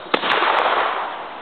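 One sharp gunshot cracks close by during shooting practice, followed by a loud, rolling echo that fades over about a second.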